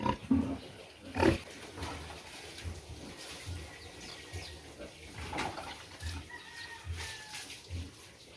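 Grunts from a sow come in short bursts over a farmyard background with chickens clucking nearby; no one speaks.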